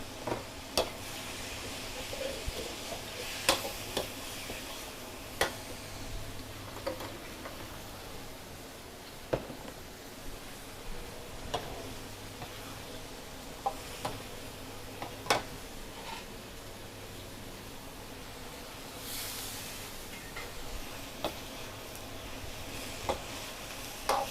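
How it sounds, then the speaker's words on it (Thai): Shallots stir-fry in a pan with a quiet, continuous sizzle, broken by occasional light clicks and taps of a spatula. "อันนี้คือหอมนะคะ ใส่ลงไปผัดค่ะ"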